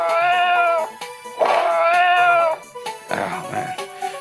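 Repeated drawn-out meows from a cat in a browser cat video game, loud and close, with brief clicks and rustling between the calls.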